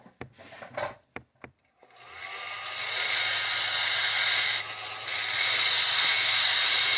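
A handheld rotary tool carves fire agate stone, starting with a few sharp taps and then settling into a steady, loud, high grinding whine that holds for several seconds with a slight dip midway.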